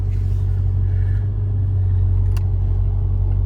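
Car pulling out of a driveway, a steady low engine rumble with a faint rise partway through, close and continuous with no talking.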